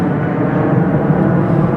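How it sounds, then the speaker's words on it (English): An airplane passes overhead outside a Mazda dealership, a loud, steady, broad engine roar that holds throughout, with no talking. "We'll let this plane fly by."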